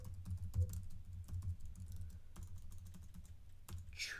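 Quick, light clicks of typing on a computer keyboard, irregular taps at close range and fairly quiet, with no talk over them.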